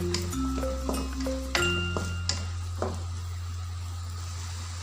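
Green beans fry with sliced egg in a pan, a steady close sizzle running throughout while a spatula scrapes and taps in a few stirring strokes, with a faint musical tone briefly underneath.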